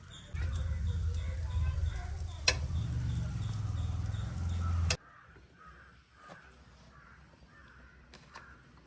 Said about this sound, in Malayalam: ബട്ടർ ചൂടായിട്ട് നമുക്ക് ബണ്ണ് വെച്ച് ജസ്റ്റ് ഒന്ന് ചൂടാക്കിയെടുക്കാം